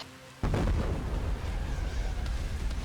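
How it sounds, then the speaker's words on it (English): Explosive detonation in Payday: The Heist, a sudden loud blast after a quiet moment that rolls on into a long, heavy rumble with no talk over it. "Okay, stay low, everybody. Detonated in 4, 3, 2, cover."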